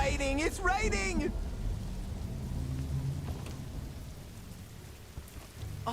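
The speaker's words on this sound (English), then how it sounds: "It's raining! It's raining!" Steady rain pours in the video game Throne and Liberty, a continuous hiss running through the whole stretch, with a voice speaking excitedly over the start.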